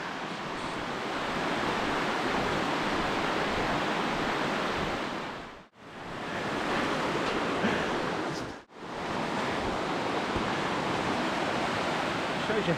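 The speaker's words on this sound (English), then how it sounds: "Shows you how fast the water is running down this river, down the Tahune River." The fast-running Tahune River in Tasmania rushes in a loud, continuous broadband roar, broken only by two brief near-silent dips.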